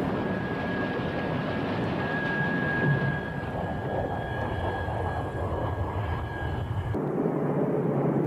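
Roaring jet engine noise from a Russian MiG-29 fighter on takeoff, a steady loud broadband rumble with a thin high whine running throughout, cutting down sharply near the end.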